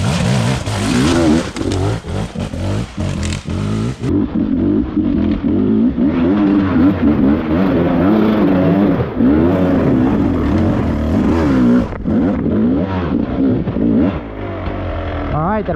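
Off-road dirt bike or side-by-side engine accelerating on a rocky trail in the Hatfield McCoy Ivy Branch trail system, a loud, steady, wavering engine drone held under throttle throughout, with a voice speaking over it.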